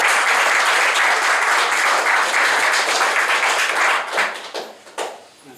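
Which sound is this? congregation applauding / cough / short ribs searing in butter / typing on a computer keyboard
congregation applauding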